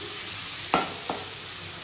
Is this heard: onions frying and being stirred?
yes